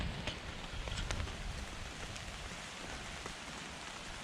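Rain drums on the top of a bivvy shelter in wet, windy woods at night, a dense, steady patter with scattered louder drops, close and continuous with no talk.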